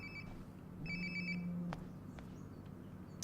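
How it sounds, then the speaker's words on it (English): A phone rings in the video game Life is Strange: Before the Storm, a short electronic trill that repeats twice over a low ambient hum, fairly faint. "Sounds like my phone is definitely nearby."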